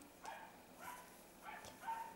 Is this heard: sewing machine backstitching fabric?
no